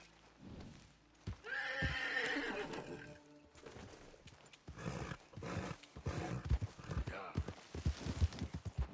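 Horse in Red Dead Redemption 2 whinnies loudly and close, followed by steady clip-clopping hooves mixed with game sounds and some talk.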